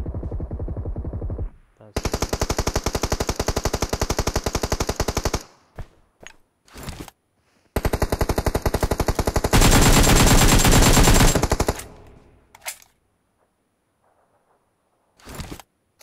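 Automatic rifle fire in PUBG on the Livik map: long, loud sustained bursts of rapid gunfire separated by brief pauses, then a few scattered single shots; voices talk intermittently around the shooting.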